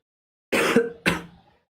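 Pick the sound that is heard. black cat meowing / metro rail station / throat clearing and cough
throat clearing and cough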